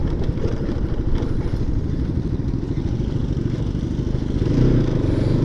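A Bajaj Pulsar RS200 motorcycle being ridden near a Pondicherry check post, its mid-pitched engine droning loudly and steadily up close with a rattly, clattering edge and a slight swell near the end.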